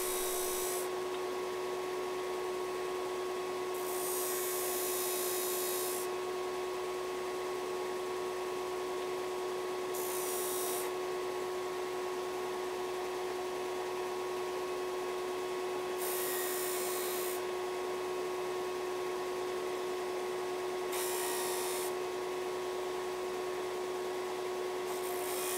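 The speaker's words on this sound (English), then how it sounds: "I headed to the belt sander and took care of those." Belt sander smoothing rough, sawn spots on a wooden multi-jointed shad swimbait, a steady mechanical whir broken by four or five louder bursts of sanding contact, close and continuous.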